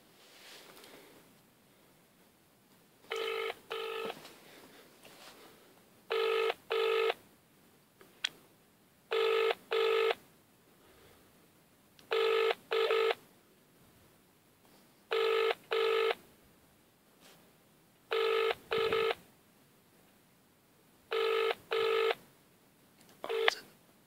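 A telephone call is placed: a quick run of touch-tone dialing beeps, then a phone's ringback tone repeating in paired bursts separated by quiet gaps, clear and close in a quiet room.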